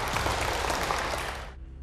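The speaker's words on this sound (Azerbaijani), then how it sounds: "Hər halda alqışlayaq." A quiz show audience breaks into a short burst of applause, dense clapping that fades out after about a second and a half.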